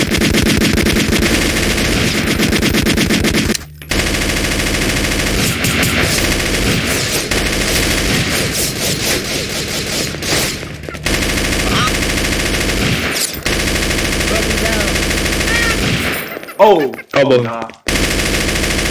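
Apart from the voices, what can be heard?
rapid gunfire in video game Garry's Mod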